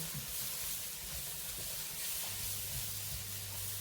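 Onions cook over low heat in a pan, giving a steady, dense hiss that stays close and even for the whole stretch, with no voices over it.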